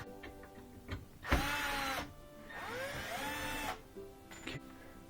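A cordless driver whirs in two short bursts, each about a second long, as it backs Phillips or Torx 15 screws out of a Miele dishwasher's panel, with quiet handling noises in between.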